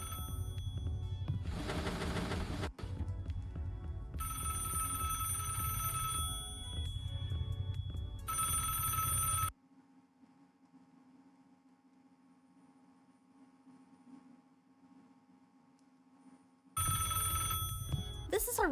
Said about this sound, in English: When you pick it up, a phone begins ringing, and you've got to find it.